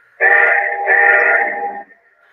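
LEGACY SD70ACe model locomotive sounds a loud, near horn-style whistle in two joined blasts of about 1.6 seconds total, alone with no talk.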